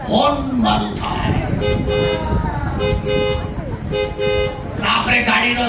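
A car horn imitated by a performer's voice in an Odia jatra stage comedy, a few short honking toots rising from a busy, noisy stage mix with talk and background sound around them.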